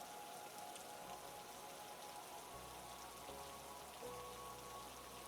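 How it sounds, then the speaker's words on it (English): Steady rain patters on a surface, a soft continuous wash of drops with a low hum underneath, no voices. "The rain outside begins to soften"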